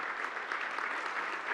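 Short burst of steady applause from a seated audience at a museum talk about NFTs, moderately quiet and even, lasting under two seconds.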